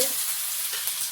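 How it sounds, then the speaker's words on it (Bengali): Garlic and panch phoron spice mix sizzle in hot oil in a pan, a dense, loud, continuous crackling hiss heard close up with faint stirring and no talking. "পাঁচফোড়ন তেলের মধ্যে একটু রসুন অল্প করে"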